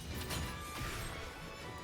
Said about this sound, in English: I'm going to break the chains.